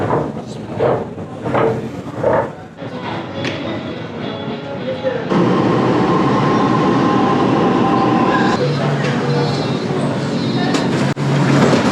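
A metro train in Milan rumbles steadily, its broadband roar jumping louder partway through, with faint voices and clunks early on.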